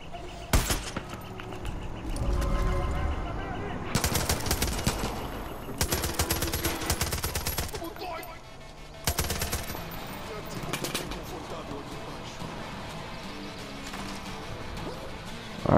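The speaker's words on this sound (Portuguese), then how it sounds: "Arma de precisão com silenciador." Suppressed precision rifle shots in Far Cry 5 at a sawmill, with sharp bursts clustered early then a few more, heard close among game noise and a brief voice.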